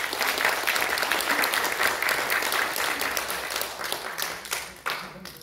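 A large audience at a formal opening ceremony for a political forum breaks into sustained applause that tapers toward the end, with a faint voice briefly audible beneath the clapping.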